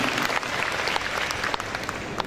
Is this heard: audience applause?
yes